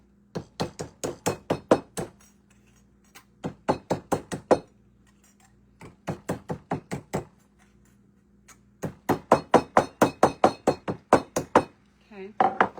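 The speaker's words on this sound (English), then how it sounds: "I got a hammer" Repeated sharp hammer blows flatten a piece of metal for an Americana wall hanger craft. The strikes come in fast bursts of roughly eight to ten, with short pauses between the series, loud and close.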